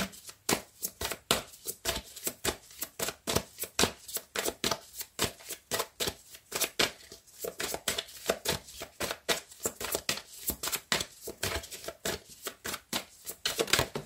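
Oracle cards being shuffled for a tarot-style reading, a steady run of crisp riffling and slapping bursts repeating for the whole stretch, close and fairly loud with no talk.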